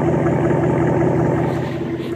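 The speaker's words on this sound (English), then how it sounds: "Sounds a lot better when I rev it up." A 2011 Dodge Ram 1500 pickup with straight pipes gives off a steady, loud, close-up exhaust rumble that holds fairly even throughout, without a sharp rise in pitch.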